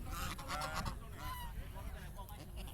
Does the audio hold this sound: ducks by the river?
yes